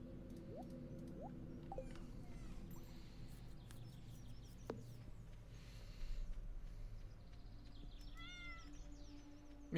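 Cat meows from the Stardew Valley farming game, a few short mewing calls scattered over a steady ambient music and background bed, fairly quiet, with no talking.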